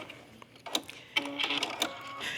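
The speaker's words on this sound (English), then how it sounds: "I'm just gonna turn the unit around and sew the other line" A domestic sewing machine stitches a quilt block seam in short bursts, near and fairly quiet, with a light whirring hum and mechanical clicks.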